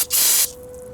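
Brake cleaner blasting from an aerosol can onto a lawn mower's rear axle parts, a loud close hiss lasting about a third of a second before cutting off.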